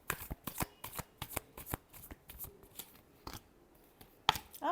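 Tarot cards being shuffled in a run of crisp, rapid riffling bursts, close and dry, with short pauses between flurries and a sharper snap near the end.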